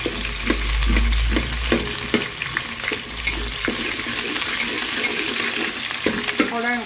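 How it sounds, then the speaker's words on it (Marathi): Bay leaf and onion fry in hot oil on a medium flame for veg pulao, a loud continuous close sizzle with regular stirring knocks and scrapes, and no speech. "तेल गरम झालेले आहे। आता त्यामध्ये मी पहिलं हे तमालपत्र टाकत आहे आणि हा कांदा टाकत आहे।"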